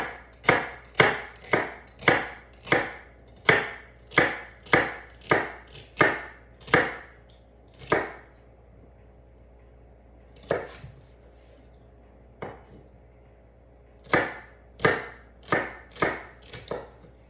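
A kitchen knife chops celery on a cutting board in crisp, evenly spaced strokes: a long quick run, a pause with a couple of isolated chops, then another short burst, close and clear.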